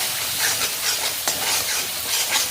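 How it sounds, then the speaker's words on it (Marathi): Spiced masala with tomato is stirred and roasted in oil in a pan, loud continuous sizzling with scraping strokes of a spoon through it. "सर्व साहित्य एकसारखं हलवून घ्यायचं आहे. छानपैकी भाजून घ्यायचं आहे सर्व साहित्य."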